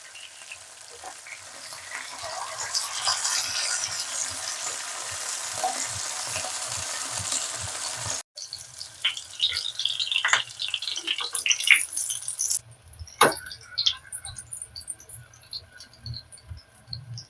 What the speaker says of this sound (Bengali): দেখুন এইরকম ভাবে ভেজে নেব